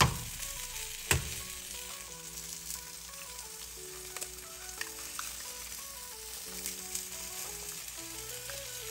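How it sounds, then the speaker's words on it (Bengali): Steady crackling sizzle of a medium-sized egg frying in a hot pan, continuous and close, with a sharp clack early on and a few faint clinks. "ফার্স্টে আমি ডিম শুধু পোচ করে দেখাবো, ভাজা করে দেখাবো"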